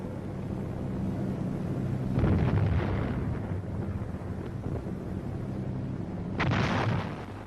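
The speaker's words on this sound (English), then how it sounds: "And heavy artillery barrages." Heavy artillery barrage in mountainous terrain, with rumbling booming explosions rolling in, two louder swelling blasts over a constant windy, roaring background, distant and sustained.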